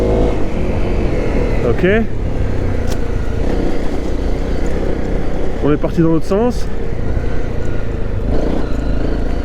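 Motorcycle on Pirelli XC Mid Hard tires ridden off-road along a rutted track, its engine a steady, loud drone throughout with rising revs at a few points, while a rider talks over it.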